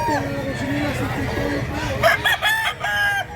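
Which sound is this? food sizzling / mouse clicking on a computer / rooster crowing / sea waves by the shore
rooster crowing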